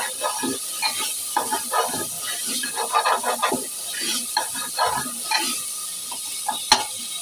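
Potatoes roasting with spices in a pan, a soft steady sizzle with scattered stirring scrapes and clatters close by, ending in a sharp tap.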